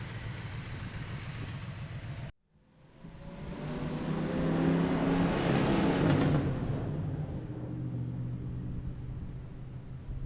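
A 1969 Chevy truck engine running after warm-up: a steady close rumble that cuts out briefly, then swells into a revving roar before settling back to an even idle hum.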